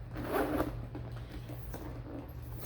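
The zipper on a Louis Vuitton Epi leather handbag is drawn along, making a soft, close scratchy rasp that comes in a few short pulls.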